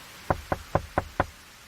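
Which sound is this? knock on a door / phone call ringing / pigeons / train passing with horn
knock on a door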